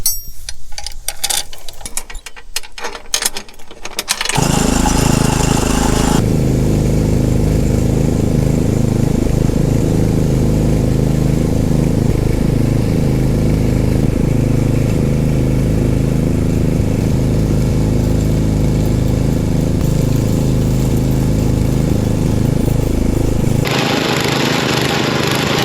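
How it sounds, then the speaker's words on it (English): A lawn mower engine drives a tiller through soil, starting after a few seconds of rustling and then running as a loud, steady rumble with a constant hum, cutting off near the end. "the tiller will be trying to go that way, but the lawnmower will be pulling it that way"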